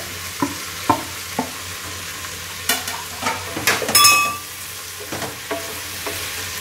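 Onions and tomato sauté in a pan for jackfruit biryani, with a spoon clattering and scraping in irregular strokes over a soft sizzle, close and fairly loud, with no talking.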